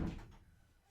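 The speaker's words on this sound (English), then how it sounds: "Close the door, please, before animals get in here." A door shuts once with a dull, low thud that fades quickly, close by and moderately loud, in a home with children.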